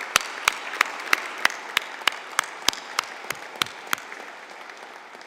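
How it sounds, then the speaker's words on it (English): Scattered applause at a class of 2025 conferring ceremony for a Department of Lifelong Learning, a dozen or so sharp, evenly spaced claps standing out over a softer patter that fades toward the end. "I think we should celebrate with our first applause of the evening"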